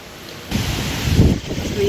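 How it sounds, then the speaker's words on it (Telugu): A strong windstorm with rain roars and buffets steadily, rushing louder toward the middle, with rain-like hiss underneath and no clear talk. "ఏం గాలి అసలు"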